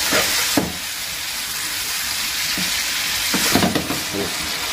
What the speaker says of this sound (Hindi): दो सौ ग्राम का टमाटर पेस्ट कर लिया था दोस्तों इसको अच्छी तरह से पकाऊंगा मतलब भूनूंगा